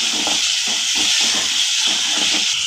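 Tomato and onion fry in a pan with a loud, constant sizzling hiss close up, with no break.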